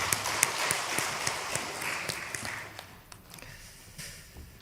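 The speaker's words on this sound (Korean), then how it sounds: "강하게 박수 올려드리겠습니다." A church congregation applauds during a Palm Sunday service, giving dense, steady clapping that gradually thins and fades, with some sharp individual claps standing out.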